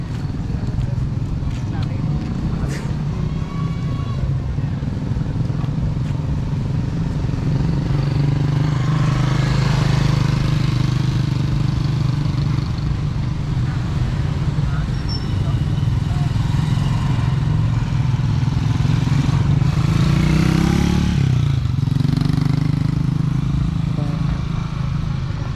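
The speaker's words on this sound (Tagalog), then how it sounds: "Ay, pwede pala yung motor dito." A motorcycle engine rumbles steadily through Alaminos City Cemetery on November 1, surging now and then, while people talk nearby over the crowd noise.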